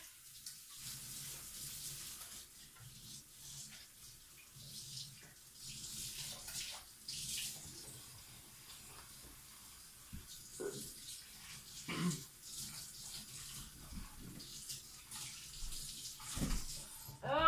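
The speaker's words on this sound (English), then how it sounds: "Now let me wash my hands here." Hands being washed under a running tap at a sink while making ocean-themed soap: soft, fairly faint splashing and trickling water with intermittent rubbing and sloshing, heard alone.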